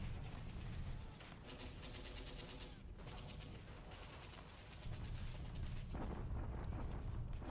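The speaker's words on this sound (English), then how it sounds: "More bombardment, but no attack." Artillery bombardment in a war video game set in 1942: a dense, continuous roll of booming blasts and crackling gunfire, moderately loud and unbroken, with heavier thuds swelling near the end.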